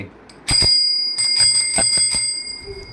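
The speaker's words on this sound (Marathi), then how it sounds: "आणि बेल पण आहे बघ इथे" A bicycle bell rings several times in quick, bright metallic dings, close and clear, with a lingering ring after each strike.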